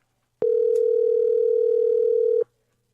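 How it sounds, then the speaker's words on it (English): A telephone sounds a single steady electronic tone lasting about two seconds, loud and close, starting and stopping abruptly with nothing else around it. "Answer that phone."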